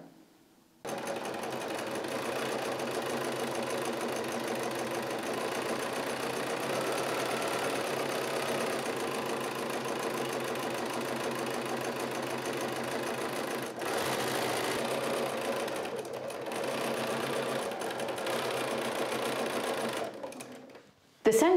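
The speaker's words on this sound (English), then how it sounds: "ready for the sewing machine" Sewing machine stitching a quilt row, a close, steady rapid mechanical whir running continuously for about twenty seconds with a short pause midway before it starts again, then stopping.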